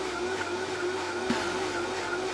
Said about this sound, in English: I'm gonna put in the cashews into the blender. I roasted some garlic, and then we are going to blend.